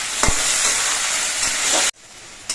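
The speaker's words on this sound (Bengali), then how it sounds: "এবার গ্যাসের ফ্লেমটা মাঝারিভাবে রেখে নিয়ে আলুগুলোকে ভেজে নিতে হবে" Potatoes frying on a medium gas flame, a steady loud hiss broken by a few stirring scrapes, then a sudden cut to near silence before the sizzle briefly returns.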